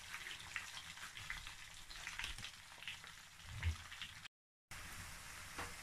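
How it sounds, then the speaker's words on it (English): Fish fries in hot oil with a soft, quiet crackling sizzle that runs steadily, broken by a brief silent gap near the end, and no one speaks. "So I'm going to allow it to fry."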